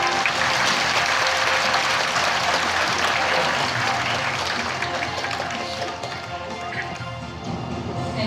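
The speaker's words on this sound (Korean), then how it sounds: "다시 한번 큰 박수로 축하 보내주시기 바랍니다" A hall audience at an award ceremony gives a loud, dense round of applause that holds steady and then tapers slightly toward the end.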